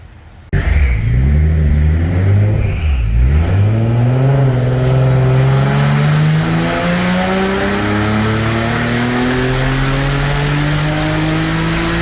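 A 2010 Nissan 370Z fitted with a Fast Intentions twin-turbo kit starts up with a loud burst, blips its engine, then revs steadily higher in a long, loud climb, heard alone.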